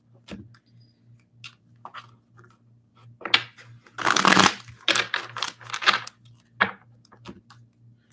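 Tarot cards are shuffled by hand in scattered papery riffles and soft slaps, building into a denser, louder flurry midway, then trailing off into lighter taps over a faint steady hum.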